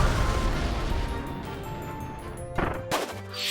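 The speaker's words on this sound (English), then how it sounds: "When activated, Kirby will literally explode, taking out everything in his path." Kirby's crash ability explosion in Kirby's Return to Dream Land Deluxe, a dense roaring blast that fades over a few seconds, with sharper bursts and ringing game tones near the end.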